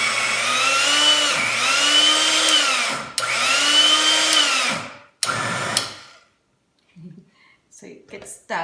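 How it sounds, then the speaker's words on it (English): A blender whirs through hummus in bursts, with the motor pitch rising and dipping as it runs, then stops. After it stops, a few faint knocks and scrapes follow. "And you just blend."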